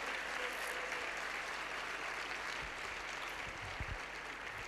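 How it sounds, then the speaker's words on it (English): Audience applause for a youth empowerment group at a community event in the Vaal, a dense, steady wash of clapping from a crowd that holds evenly throughout, with faint low thumps near the end and no talk over it. "Can we give a round of applause for EmpowaYouth for coming to the Vaal?"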